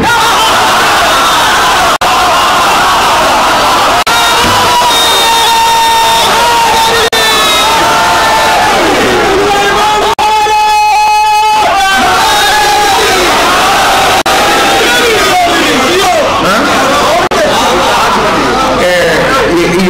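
A crowd at a Muharram majlis shouts religious slogans in loud collective bursts, alternating with an amplified preacher speaking, rising and falling across the clip.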